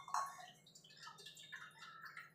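Water is poured into a pan of tempered spices while cooking sweet raw mango chutney in a home kitchen, giving a faint, brief splash and trickle that is quiet throughout.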